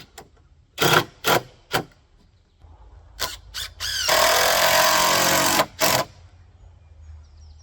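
A power drill drives screws into a treehouse wall frame in several short, loud bursts, followed by one longer sustained whirring run and a final quick burst, close up with no talking.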